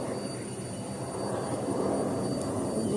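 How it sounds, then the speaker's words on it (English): A fixed-wing airplane passing overhead outdoors in a garden after rain, a steady broad engine rumble that swells slightly louder toward the end, with no talk over it. "the airplane shut it up, huh?"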